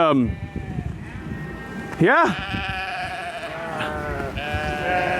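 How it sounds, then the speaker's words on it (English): Sheep bleat loudly and repeatedly, wavering cries overlapping one another, with a voice briefly speaking among them. "Damn sheep. We got 24 of them now."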